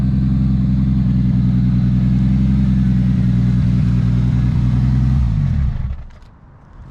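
A 700hp Toyota Supra engine runs loud and close with a steady, throbbing idle for several seconds, then is switched off and winds down abruptly into near silence.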